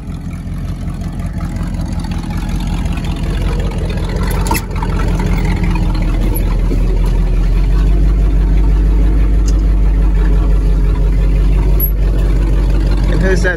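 A Ford Highboy truck drives and drifts through snow, its engine running steadily loud and close for the whole stretch, with a deeper surge partway through as it revs harder, and people talking over it.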